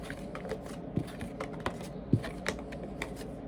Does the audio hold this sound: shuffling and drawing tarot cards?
yes